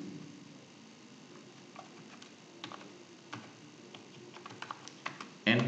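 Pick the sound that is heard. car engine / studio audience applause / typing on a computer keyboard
typing on a computer keyboard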